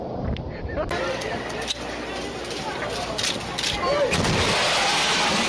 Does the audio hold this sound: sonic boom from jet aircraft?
yes